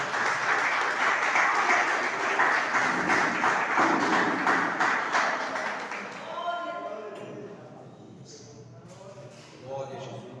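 Church congregation applauding together, loud sustained clapping for about six seconds before it thins out into scattered claps and voices speaking over a quieter room.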